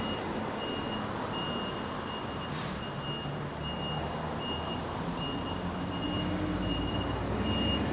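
A bus reversing on a Taipei street at night, a regular series of beeps sounding over steady engine idle and traffic rumble, with a brief hiss of air brakes.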